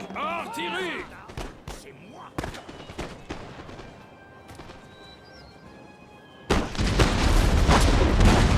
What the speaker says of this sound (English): Whilst you are shelling the enemy